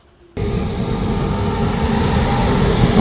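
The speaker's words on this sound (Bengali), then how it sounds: "আমাদের ট্রেন নিউ জলপাইগুড়ি কাছাকাছি চলে এসছে" A passenger train rolls toward New Jalpaiguri station after an overnight run, heard from near the carriage door. A steady, loud rumble and clatter of wheels on the rails starts abruptly and builds slightly, with no talking.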